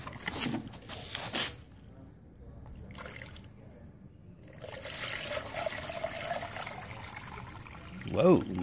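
A thin stream of water trickles into a bucket being filled to 2,000 millilitres, soft and steady with faint handling noises and a brief louder splash near the end.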